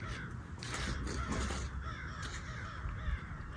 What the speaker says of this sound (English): We got some crows over there. They're mad about life.